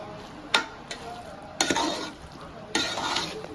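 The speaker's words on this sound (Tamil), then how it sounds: "அவிச்சு எடுத்த நூடுல்ஸை அதை சேர்த்துக்கலாம். போட்டு நல்லா கலரி விட்டுக்கலாம்" Boiled Hakka noodles and vegetables are stir-fried in a pan, with three loud bursts of scraping and tossing over a steady background sizzle.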